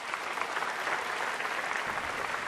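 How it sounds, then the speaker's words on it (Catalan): A small audience claps for a woman, dense steady applause from many hands that runs evenly from start to end, fairly close, with no voices over it. "I un aplaudiment per ella"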